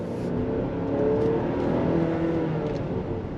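A 2025 Chevrolet Traverse High Country accelerates on throttle, its engine note rising smoothly with a steady whir, heard from inside the cabin at moderate level.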